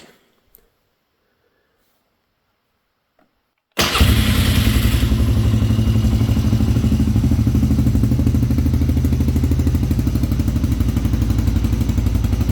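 After near silence, a motorcycle engine fitted with a modified dB killer in its muffler suddenly fires up and settles into a loud, steady, close-up idle with a rhythmic chugging pulse.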